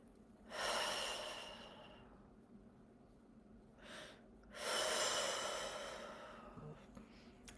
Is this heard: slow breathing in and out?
yes